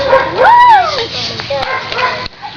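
Small puppy gives a rising, squeaky yip with a few thin whimpers, close by, while a woman coaxes it in Portuguese in a casual home setting.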